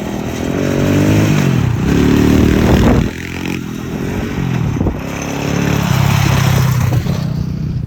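A mini ATV with a 125 engine runs loud and close, its motor droning and rising in pitch with revs, dipping briefly around the middle before climbing again, with some mechanical clatter and no talking.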